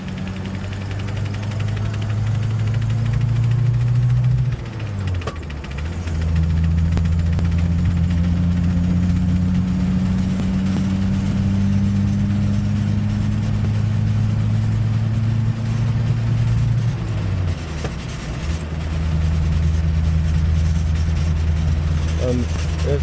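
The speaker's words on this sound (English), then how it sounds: "You can hear that exhaust leak a little bit." A Toyota Odyssey engine with an exhaust leak idles steadily and close up, its low droning hum holding for the whole stretch, with the pitch dropping and shifting briefly around a few seconds in and again near the end.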